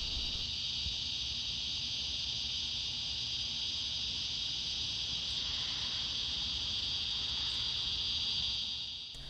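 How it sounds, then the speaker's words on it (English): Cicadas sing in a garden food forest with a steady, dense, high-pitched buzz that holds unbroken throughout, fairly loud and close, with no other sounds above it. "Enjoy the sounds of the cicadas in full stereo."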